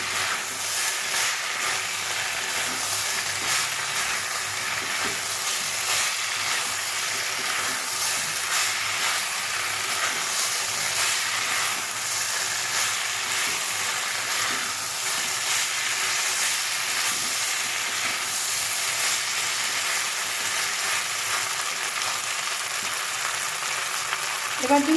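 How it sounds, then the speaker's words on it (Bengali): Pre-fried pointed gourd with potato and spices frying in a pan, a loud continuous hiss and sizzle holding steady for the whole stretch, with faint stirring underneath and no voices. "এবার আমি ভেজে রাখা পটলগুলো দিয়ে দেবো। এবার একটু ভালো করে কষিয়ে নেবো সব উপকরণগুলো।"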